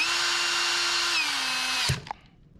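A power tool drives a bolt into the underside of the muffler on a Stihl FS80/FS85 trimmer during reassembly, whirring steadily and loudly up close for about two seconds before spinning down with a couple of clunks.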